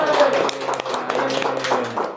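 Scattered claps ring out from the audience at a Bank BJB award event, irregular and close, with a voice talking over them throughout.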